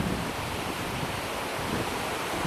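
Water rushes steadily through Velika Paklenica canyon in Croatia: a continuous, even broadband hiss with no breaks and no voices.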